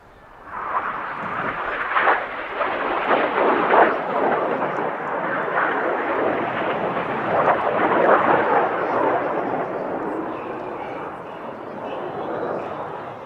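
Six Red Arrows jets flying the Python formation manoeuvre at the Midlands Air Festival 2023, a broad sustained jet roar that swells and fades over several seconds, loud and close to moderately distant.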